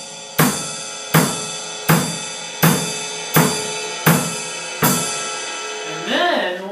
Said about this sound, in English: you want to start out by playing straight quarter notes on the ride cymbal and on the kick